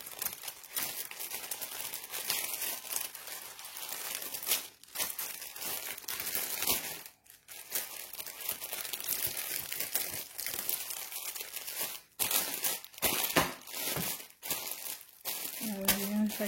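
Paper packaging is crumpled, crinkled and torn close up while cross-stitch canvases are unboxed, producing dense continuous rustling with brief pauses and a few sharper tearing bursts.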